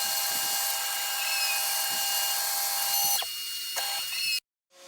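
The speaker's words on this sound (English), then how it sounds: "The strange noise in here in the background is the CNC router." In a workshop, a CNC router runs with a sustained high-pitched tonal whine. Other machining noise shifts over it, and the sound cuts off abruptly just before the end.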